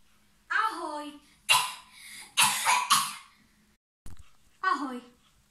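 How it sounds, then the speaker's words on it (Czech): A person with the flu coughs and clears their throat in several short bursts, close to the microphone, with a few voiced, hoarse sounds between them. "jenom trochu kašlu"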